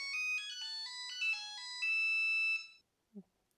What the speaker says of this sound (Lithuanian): Telefono nustatymuose galime rasti tokias funkcijas kaip skambučio garsumas